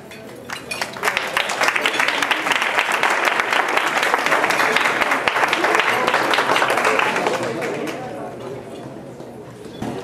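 Sustained round of audience applause for a Caribbean poetry group, dense and steady clapping for about seven seconds before thinning out, with a voice speaking over the end.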